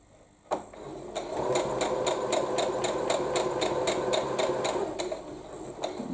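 A sewing machine stitching a quilt runs in a fast, even burst of needle strokes for about four seconds, starting after a sharp click, then slows with a few final stitches; close and clear, no voices.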